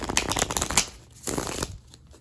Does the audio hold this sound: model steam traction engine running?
no